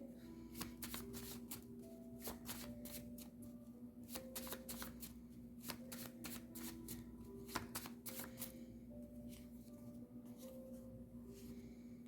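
A small oracle card deck being shuffled by hand, a soft, close series of repeated riffling bursts and card slaps over a low steady hum, with no talking.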